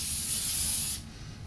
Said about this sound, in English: going to spray.